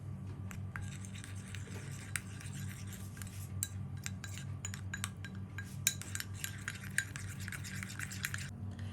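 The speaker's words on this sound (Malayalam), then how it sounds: "ഇനി ഇത് നന്നായിട്ടൊന്ന് ഇളക്കി യോജിപ്പിക്കാം." A spoon scrapes and clinks against a bowl while stirring a rice-flour face pack, with repeated soft taps and scraping strokes over a low background hum.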